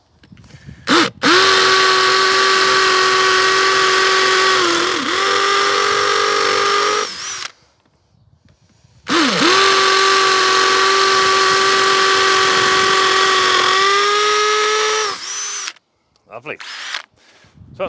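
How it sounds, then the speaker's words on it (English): A power drill bores four holes for wall plugs in two long bursts, a loud steady whine with a high harmonic pitch that dips briefly under load, separated by short silences, followed by a few brief tool sounds at the end. "So that's four holes drilled."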